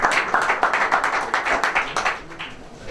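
A small audience at a Madrid presentation of the Aranda roast lamb festival claps in a close, brisk burst of applause that thins toward the end, with no talking over it.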